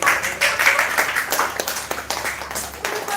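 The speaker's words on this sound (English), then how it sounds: "And they give him a big clap." A group of children at a primary school clap together in a short, steady burst of applause, close and lively, with some chatter mixed in throughout.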